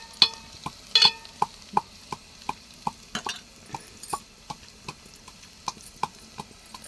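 Half a kilo of chicken tempered with green chillies and onions frying in a pan makes a faint sizzle, broken by sharp, regular clicks and taps of a spoon stirring against the pan.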